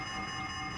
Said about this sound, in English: All of the alarms are going off.